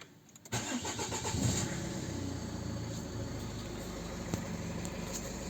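A Renault Koleos engine starts with a short crank and catches, then settles into a steady idle up close, with no talking.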